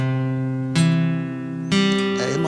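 A string instrument plays measures 9 to 16 of the Star Spangled Banner slowly, with a few long sustained, ringing notes that change pitch twice, clear and close with no talking.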